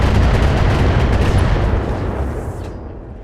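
A missile salvo fired by a mech in the BattleTech video game, heard as a loud, dense roaring rumble that slowly fades away over a few seconds.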